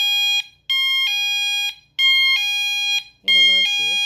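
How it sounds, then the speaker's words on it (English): A 1byone wireless driveway motion sensor alarm plays a loud, bright electronic chime in repeated tonal bursts. A short melodic segment follows near the end. "I'm going to turn it up to the chime, which makes a better sound. It's not quite as loud."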